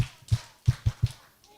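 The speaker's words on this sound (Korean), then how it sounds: "칭찬 박수 시작" Five short claps sound in a quick rhythmic pattern during a children's Sunday school worship service at a church. They are faint and close, with brief pauses between them.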